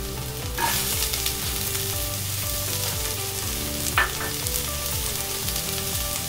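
Chopped onion and carrot sizzle steadily in a Dutch oven for a braised ox cheek, a close, continuous hiss broken by a couple of brief stirring clatters, with no one speaking.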